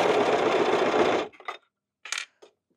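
A serger overlock machine sews seams on a Cocoon Cardigan, running loud and steady for just over a second before stopping, followed by a few sharp clicks and light handling noises.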